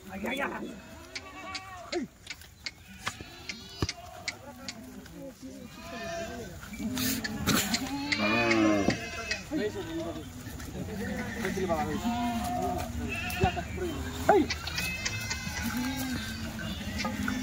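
Kathewadi goats at a wholesale seller's pen bleat repeatedly, several animals calling near and far in overlapping, wavering cries, with people talking throughout.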